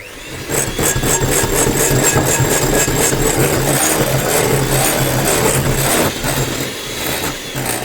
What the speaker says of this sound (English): I'm going to gradually whisk in the rest as it's mixing.